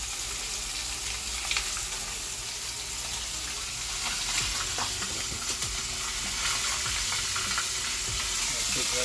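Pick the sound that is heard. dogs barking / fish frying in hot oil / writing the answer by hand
fish frying in hot oil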